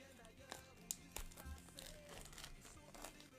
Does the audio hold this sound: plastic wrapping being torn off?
yes